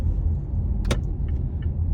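Steady low road rumble from inside a moving car, constant and close, broken once by a brief sharp click; no one speaks.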